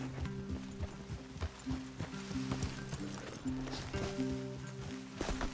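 Horses shifting and stepping among trees in Red Dead Redemption 2, with soft hoof clops and rustling repeating through the clip over a steady outdoor background.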